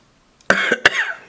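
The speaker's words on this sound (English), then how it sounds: "now good time to cough" Two quick, harsh coughs close to the listener, the second following right after the first.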